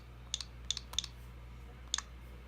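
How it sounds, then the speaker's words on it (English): Light clicks of typing on a Nintendo Switch on-screen keyboard, five quick soft taps in an uneven rhythm, close and faint in an otherwise quiet room. "I'm just going to type in"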